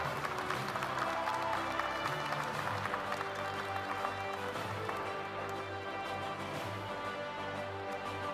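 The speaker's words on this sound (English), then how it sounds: "A big applause for her." An audience applauds a medical graduate receiving aggregate gold and silver medals at a decennial celebration of a medical sciences institute, with steady, dense clapping running throughout over background music.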